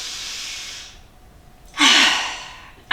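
Slow, deep breaths during a neck and shoulder mobility exercise: a long airy exhale fades out, then a strong nasal inhale rushes in, close and breathy, followed by a short sharp breath at the end.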